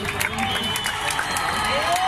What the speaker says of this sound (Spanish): ¡Vende el aplauso, vende el aplauso, vende el aplauso!